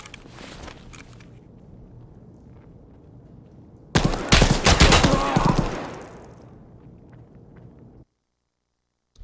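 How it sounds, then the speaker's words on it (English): Gunfire in the video game Escape From Tarkov: a sudden loud burst of rapid shots lasting about two seconds, cutting through quieter ambient noise and fading into a distant tail. "there's bullets firing right here"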